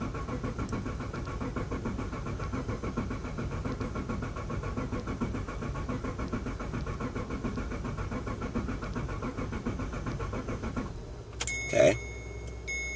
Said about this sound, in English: I'm gonna run the starter until I see some oil pressure.